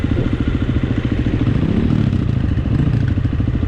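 A dirt bike engine on an off-road park trail revs steadily and loudly with a throbbing, pulsing rumble, its pitch rising and falling as the rider shifts gears, with no talking over it.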